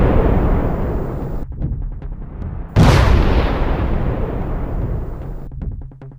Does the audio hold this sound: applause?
no